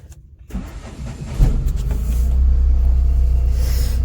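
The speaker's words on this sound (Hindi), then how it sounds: "हाफ सेल्फ में स्टार्ट है गाड़ी" A Tata Nano starts after a short click and a cranking burst, then settles into a loud, steady, close idle rumble with no talk.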